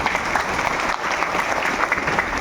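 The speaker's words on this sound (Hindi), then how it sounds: "तो एक बार इनके लिए जोरदार तालियां।" A crowd at a satsang gathering claps vigorously for a guest, a dense burst of many hands that holds steady and close for a couple of seconds.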